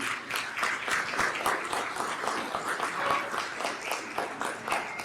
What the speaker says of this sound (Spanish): Les damos un aplauso de bienvenida a los de Amor y Vida.